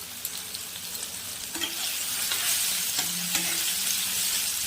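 Chopped tomatoes frying in hot mustard oil with black cumin seeds, a steady broadband sizzle that swells slightly midway, with occasional soft stirring scrapes and no voices.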